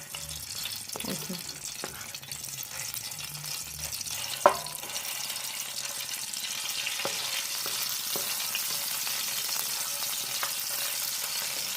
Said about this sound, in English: we are going to fry off this salted fish for at least 10 minutes till the smell of the salted fish gets into the oil